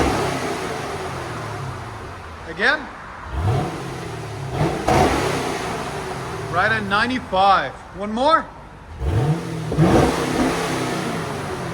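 A 2010 Chevy Camaro SS with a 6.2L V8, 14,000 miles and a Magnaflow exhaust is revved in a series of sharp throttle blips, its deep engine rising and falling several times over a steady idle while people talk nearby.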